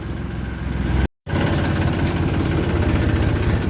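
A tractor hauling a trolley runs its engine steadily and close by, a loud continuous low rumble with a brief dropout early on, then the same even idle-like chug resumes.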